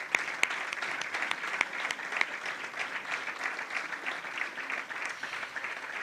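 Audience applause at an awards ceremony in Alcañiz, a moderate, steady patter of many hands heard from a distance, with a few sharper individual claps standing out.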